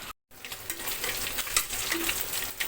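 Food sizzling and frying in a pan, a steady close crackle of hot oil with stirring and a brief pause as the piece is flipped.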